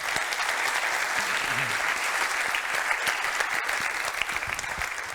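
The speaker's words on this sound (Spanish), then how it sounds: "ahora nos toca darle un gran aplauso a Alberto, que se lo ha ganado." At the close of a physics lecture in a conference series, an audience breaks into loud, sustained applause: dense, even clapping from a full hall without a break.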